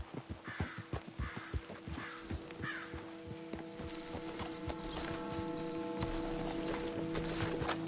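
Rhythmic clip-clop of horse hooves on hard ground in Red Dead Redemption II, steady and close at first, then fading under a low mechanical hum as a crow caws.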